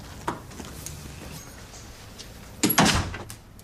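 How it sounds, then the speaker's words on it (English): A door is pulled shut in a police station, closing with a single firm thud and a short clatter of the latch after a faint knock, set against a quiet room hum. "And close the door."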